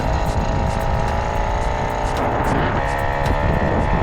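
A small moped engine, a Piaggio Bravo or a Babetta 207, runs on choke, a loud, close and steady buzzing idle that stays unbroken for the whole stretch.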